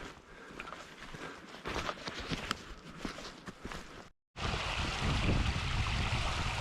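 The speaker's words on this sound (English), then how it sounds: "And this stream, you can see it literally just keeps going." Flowing mountain stream of clear glacier-fed water in the French Jura countryside, a steady rushing wash with footsteps and small knocks up close, cutting out briefly before returning louder and fuller, with no talking.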